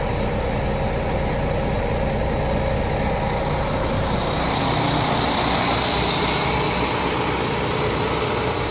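A large diesel truck engine idles steadily nearby, a constant low rumble that holds unchanged throughout.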